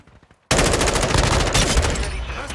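After a brief quiet moment, loud sustained automatic gunfire erupts in Call of Duty: Modern Warfare II, a dense continuous rattle of rapid shots that stays close and intense to the end.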